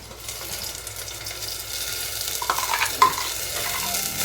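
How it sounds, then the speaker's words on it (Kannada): Ground masala added to onion frying in oil in a pan gives a soft, steady sizzle with light stirring and scraping that grows a little busier toward the end, close and moderately quiet. "ಈಗ ಉಳ್ಳಾಗಡ್ಡಿ ಎಣ್ಣೆ ಒಳಗೆ ಫ್ರೈ ಆಯಿತು ಈಗ ರುಬ್ಬಿರೋಂಥ ಮಸಾಲೆ ಹಾಕಿರ್ತೀನಿ"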